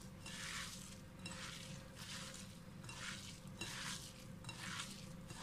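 Stirring cumin into a flattened rice (avalakki) mixture for vada, a steady rhythmic scraping and swishing in a bowl, repeating in roughly one-second strokes, close and fairly quiet.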